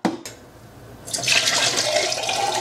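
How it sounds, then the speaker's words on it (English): After a brief clunk, water rushes steadily from a tap into a pot, a bright continuous splashing stream close by. "So I'm going to fill this up with more water now."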